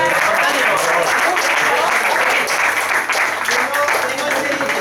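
A live audience gives a comedian a sustained round of applause, loud and dense clapping that carries on throughout, with some talk mixed in.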